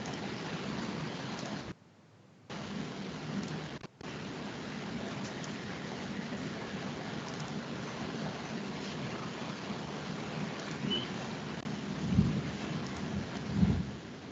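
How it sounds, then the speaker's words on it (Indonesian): Heavy rain pours in a steady, dense hiss while low thunder rumbles roll in near the end, with no talking over the downpour. "Harinya semakin hujan."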